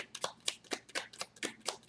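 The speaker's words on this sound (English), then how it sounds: "So I'm going to shuffle one more time to see if there's anything left." Rapid, regular riffling of tarot cards being shuffled, about eight crisp bursts in two seconds, close and fairly quiet with no talking.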